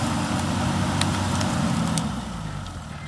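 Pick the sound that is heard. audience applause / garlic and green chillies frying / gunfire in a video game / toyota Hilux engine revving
toyota Hilux engine revving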